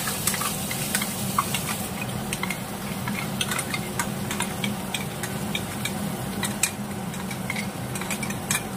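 Ginger, garlic and chili paste frying in a pan for paneer butter masala, a steady close sizzle with scattered light stirring clicks and utensil taps throughout.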